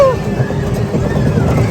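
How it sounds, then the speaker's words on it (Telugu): Tractor engine on a farm ride, a steady close rumble with wind buffeting the microphone, under people talking. "so finally ఎక్కామన్నమాట tractor"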